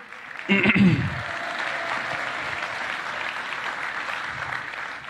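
Audience applause at a departmental majority public political meeting in the Yvelines, a steady broadband clatter of many hands that rises sharply after a brief louder burst near the start and holds evenly throughout.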